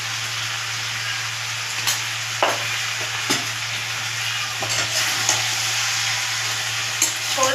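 Fish head chorchori with mustard and poppy seed paste sizzles steadily in a pan, with a constant frying hiss and a low hum beneath, while a spatula scrapes and stirs in scattered clicks and knocks.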